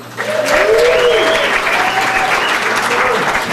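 A crowd at a chamber of commerce awards evening bursts into loud, sustained applause for the event sponsors, with cheering voices rising over the clapping throughout.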